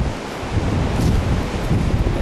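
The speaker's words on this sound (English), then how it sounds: "The ocean on this side" Ocean surf breaking on a rocky shore beside a stone wall, a steady close roar of waves with wind buffeting the microphone throughout, no voices.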